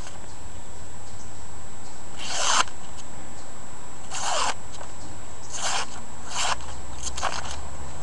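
A Boker Subclaw hawkbill knife slices through paper in several short, crisp cuts, each a brief dry rasp separated by pauses, close and alone.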